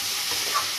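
Suji (semolina) being stirred in a hot pan, a brief steady sizzling hiss with soft scraping, close up and continuous.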